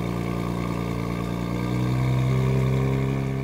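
A 2023 Nissan Z with Z1 turbos, Pride Auto full downpipes and a Performance Factory exhaust drones steadily nearby, its throaty exhaust note rising slightly as revs climb, with no voices over it.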